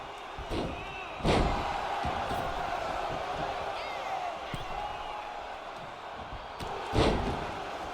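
Heavy thuds of a wrestler being slammed onto the mat in a wrestling video game, a few sharp impacts spaced seconds apart over crowd noise and ongoing commentary.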